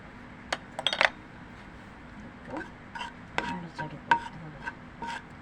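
A spoon scrapes and clinks against a pan while spices are stirred into chicken curry, giving sparse, faint metallic knocks and scraping strokes spread across the moment.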